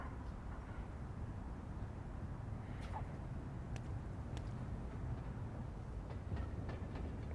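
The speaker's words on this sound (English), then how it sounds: "Train!" Train rumbling past in the video game Vampyr, a steady broad roar filling the whole stretch at constant level with a few faint metallic squeals, no talk over it.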